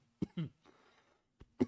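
A few short, sharp coughs come up close, with a brief throat-clearing rasp between them, from a laughing commentator during an esports match broadcast. They come in two quick bursts, then a pause, then two more.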